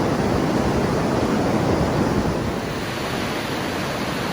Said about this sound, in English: creating the waterfall.